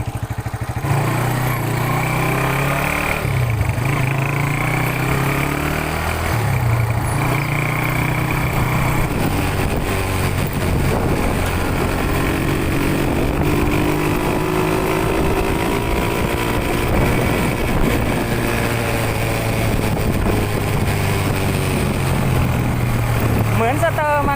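A Honda Wave 100 motorcycle fitted with a converted CDI drones steadily on a test ride, its engine rising and falling through gear changes under constant wind noise.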